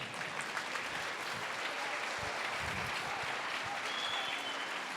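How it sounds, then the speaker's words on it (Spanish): Many worshippers in a church congregation clap as an offering to Jesus, producing a continuous, even roar of hands that stays level throughout at a moderate distance. "Ahora dele una ofrenda de palmas a Jesús."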